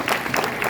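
A brief burst of audience clapping for student presenters, dense and fairly loud throughout its short span, with no talk over it.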